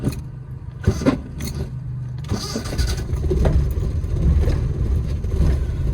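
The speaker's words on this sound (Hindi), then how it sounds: "तो चलिए जी बिस्मिल्लाह पढ़कर गाड़ी को स्टार्ट करते हैं।" A manual car that has sat unused for some days is started up, with a few clicks and a short crank before the engine catches and settles into a steady idle, close and fairly loud.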